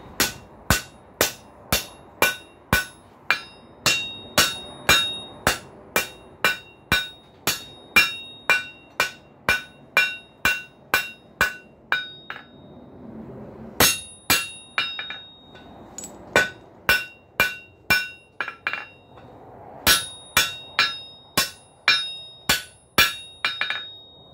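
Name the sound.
hammering round bar on an anvil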